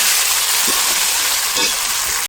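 Meat frying in a pan with a cooked-down spice masala, a close, loud continuous sizzle with a few soft stirring scrapes, cut off abruptly at the end.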